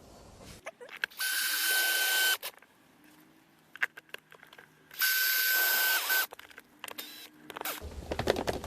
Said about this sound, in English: I'll go ahead and screw this one in.